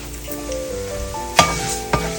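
Mustard seeds and urad dal sizzle and crackle steadily in hot oil in a pan, with two sharper pops standing out over the continuous frying hiss.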